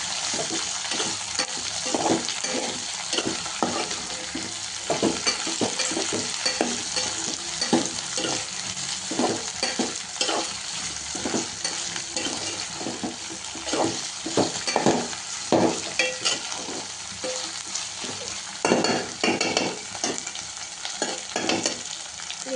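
Capsicum pieces being stirred and fried in a pan for a masala curry: a steady close sizzle broken by frequent scraping stirs of the spatula, with no voices.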